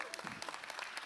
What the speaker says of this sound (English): Somebody clap for that